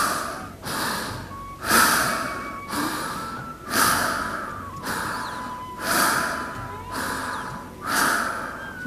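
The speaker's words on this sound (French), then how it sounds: "Pour ce qui est de la respiration du bastrika, du soufflé de forgeron, cette respiration du feu, le rythme est un peu rapide." Bhastrika yoga breathing, or breath of fire, with forceful, regular breaths through the nose, each a loud whooshing rush followed by a quieter draw, repeating about every second and a bit with no talking.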